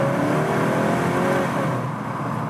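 Engine of a 2021 Skoda Octavia RS with the 245 hp TSI petrol engine, heard from inside the car during a downshift: a steady, moderately loud rising drone with no voices.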